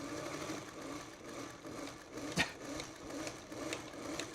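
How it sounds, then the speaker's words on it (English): A sewing machine stitching log cabin quilt blocks runs in a steady, moderate whir. One sharp knock lands midway through. "Sewing."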